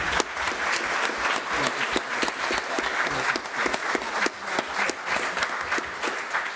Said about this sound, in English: And a round of applause for Beverly for amazing sharing.